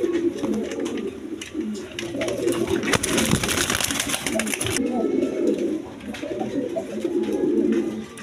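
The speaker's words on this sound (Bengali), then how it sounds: "দর্শকবৃন্দ এখানে এক পেয়ার অরেঞ্জ চিলা কবুতর আছে" A pair of orange pigeons coo in low, throaty bursts close by, with a voice murmuring in the background.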